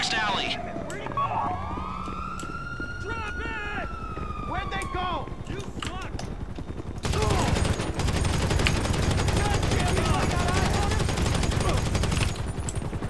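Gunfire in Grand Theft Auto V rings out as rapid automatic bursts amid a rising and falling police siren and dense game action, turning into a loud, continuous wash of shooting and chaos in the second half.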